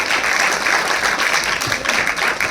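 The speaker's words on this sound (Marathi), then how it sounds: "जोरदार टाळ्या झाल्या पाहिजेत विद्यार्थ्यांच्या" Students clapping loudly for a website inauguration ceremony, a steady dense wash of many hands applauding together for the full stretch, with no talk over it.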